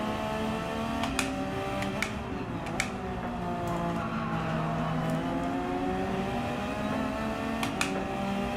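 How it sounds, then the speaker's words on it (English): Racing car engines in the video game Gran Turismo 7 whine and rise through the gears, with sharp shift clicks and brief skid-like bursts, continuous and fairly close with no talking. "You guys should be able to hear the engines."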